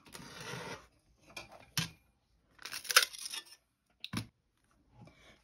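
Fused glass pattern bars are cut in a series of sharp, separate crunching snaps and scrapes with quiet gaps between them, close and fairly faint.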